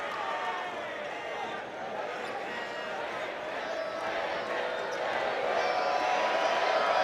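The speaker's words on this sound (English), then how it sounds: "the crowd chanting bacon" A college basketball arena crowd at a USC Upstate versus Virginia Tech game chants in unison, the mass of voices swelling steadily louder across the clip, with a commentator's voice layered on top.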